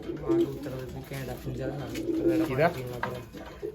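Racing pigeons coo repeatedly at close range, low throaty calls overlapping with other chatter in a busy loft.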